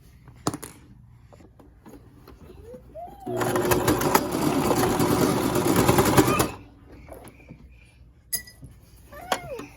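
Sewing machine stitching scrap fabric for a dress, a steady close whirring run of about three seconds in the middle, with brief clinks and small handling noises before and after.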